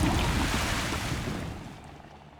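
Floodwater drains away in the Timberborn video game once the water is cut off, a broad watery rushing wash that gradually fades quieter.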